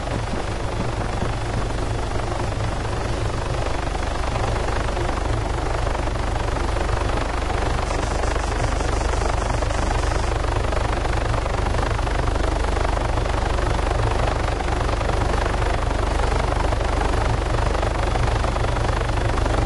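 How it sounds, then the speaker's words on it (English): A helicopter in the Arma 3 video game hovers and then sets down, its rotor and engine roar holding loud and steady the whole time with no voices over it. "our helo is floating in the air over there"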